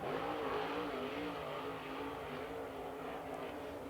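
A super late model race car, number 18, roars down the front straightaway during qualifying at Lancaster Motor Speedway, a sustained, fairly distant engine drone holding steady throughout with no talking.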